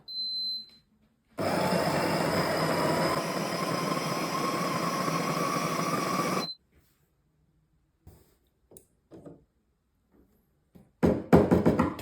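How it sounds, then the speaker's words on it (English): A Ninja Luxe Café Premier ES601UK espresso machine grinds coffee in one loud, steady burst lasting about five seconds, then stops abruptly, followed by a few light clicks and taps. "Push start grind."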